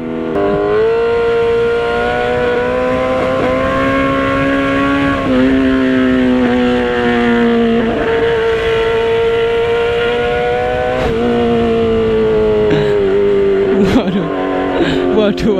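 Motorcycle engine droning steadily throughout with a humming, whining clutch-plate tone that shifts pitch slightly as it rides, continuous and close, with a voice talking over it.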